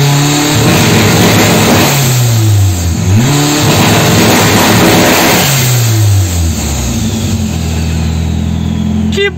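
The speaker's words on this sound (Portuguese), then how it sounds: "Vamos ver de alto no two-step?" Tuned car engine revving hard against two-step launch control, loud and close, with sustained high-rpm bursts that dip and climb again, then settle back toward idle near the end, no talking.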